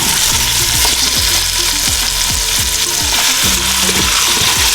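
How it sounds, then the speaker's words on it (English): Two small pieces of beef shin fry loudly in a soup pot, a dense continuous sizzle up close with repeated crackling pops and spatters all the way through. "next up, we are putting in the meat. This is just 2 small pieces of shin."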